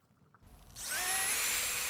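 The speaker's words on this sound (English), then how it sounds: "I'm going to use a drill with one of those light sanding or paint removing tools" Power drill fitted with a light sanding or paint-removing attachment scrubs rust off metal, spinning up after a quiet start into a loud, steady high-pitched whirring grind that holds to the end.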